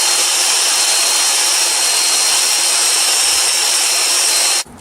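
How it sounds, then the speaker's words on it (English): Power wire wheel running loud and close, a dense, harsh whirring hiss held steadily for several seconds before cutting off at the end. "Time to make some noise with my new wire wheel"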